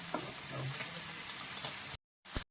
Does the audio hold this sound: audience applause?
no